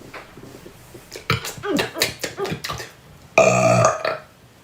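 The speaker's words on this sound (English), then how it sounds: "can you make yourself burp," A child burps on purpose, a short run of choppy voiced croaks followed by a longer, louder sustained belch near the end, close to the mic in a quiet room.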